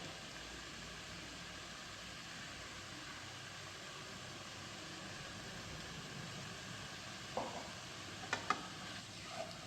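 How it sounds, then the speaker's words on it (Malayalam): Ripe plantain roasting in ghee in a pan for Kerala-style pazham varattiyath, giving a steady, even sizzle as it is stirred, with a few brief utensil clinks near the end and no voices. "ഇത് ഇളക്കി വരട്ടിയെടുക്കണം"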